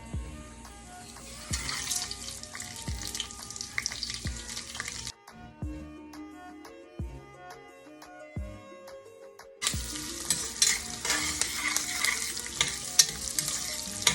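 Jeera rice tempering: whole spices crackle and sizzle in hot ghee, with stirring clatter and bursts of frying noise that drop away briefly in the middle before the loud sizzle returns.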